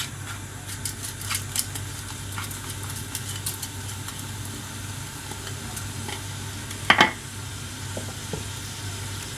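Vegetables frying in a pot as the base for harira soup, a steady soft sizzle with faint stirring clicks throughout and one brief louder scrape or clatter near the end, no talk.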